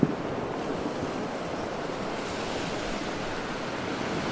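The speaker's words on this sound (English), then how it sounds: "He was determined to create 1 hour of perfect ocean sound." Ocean waves wash in a steady, continuous roar of surf recorded for a meditation CD, with broad hiss and no distinct breaks or voices.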